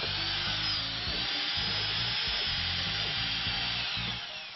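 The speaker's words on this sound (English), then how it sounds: "we mark the edge so we know where to drill the guide holes that hold the box together" A power drill whirs steadily into wood drilling guide holes for a box, a loud continuous whine with a faint rhythmic chatter underneath, easing slightly at the end.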